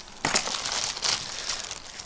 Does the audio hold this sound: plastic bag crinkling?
yes